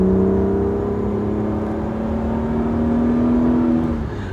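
BMW E36 M3 with its 3.2 liter engine pulling hard under acceleration in third gear, a steady loud engine drone with rising harmonic tone heard from inside the car, no voices.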